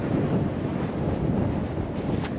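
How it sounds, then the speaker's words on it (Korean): Strong wind roars steadily across a mountain ridge in winter, a dense, continuous buffeting rumble that batters the microphone throughout with no pauses. "와, 바람 장난 아니에요."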